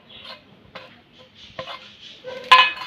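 Mustard-leaf mash with dried fish being mixed with coriander leaves in a bowl: scattered clinks and scrapes of utensil against dish, soft and close, with a sharper clatter near the end.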